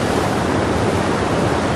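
Swollen canal water after rain rushes past in a steady, loud, broadband roar, close and continuous like surf, with no voices over it.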